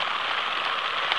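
Steady rain patters on a tent pitched for a wild camp on a hilltop ancient hillfort, a dense continuous hiss with scattered closer drops, heard alone without talk.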